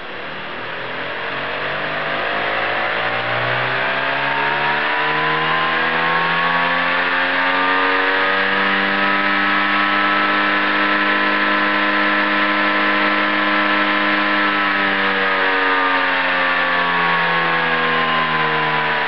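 A modified car alternator running as a motor with an added resistor, powered from a 14 volt battery, spins up from rest into a steady, loud whining hum that rises in pitch and then holds high and constant.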